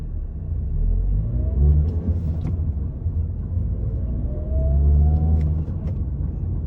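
A 2018 Mazda 6 with a six-speed manual cruises along, its low engine and road rumble steady and fairly close, swelling gently twice as it eases on the throttle.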